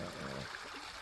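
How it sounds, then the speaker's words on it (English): Water flows in Ellington Creek, a relatively short creek near Crawfordville, after rain. A faint, steady rushing trickle is heard alone, with no talk. "This is a relatively short creek"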